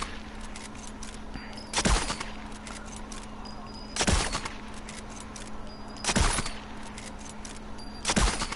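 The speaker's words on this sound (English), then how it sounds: "We come to our final sniper, the very rare 9mm Delisle carbine, made by the British as an extremely silent rifle." A 9mm Delisle carbine, a very rare British silenced rifle, fires in Sniper Elite 4: four muffled, evenly spaced shots about two seconds apart, each a short soft thump over a faint steady hum.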